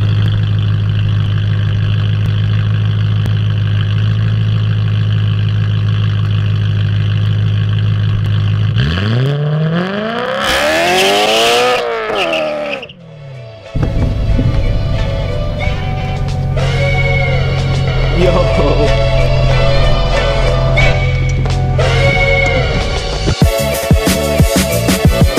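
A manual car's engine idles with a low drone, then revs up to about 4,000 RPM for a rising and falling roar, drops sharply, and pulls away under load after a clutch launch, accelerating loudly through sweeping engine tones.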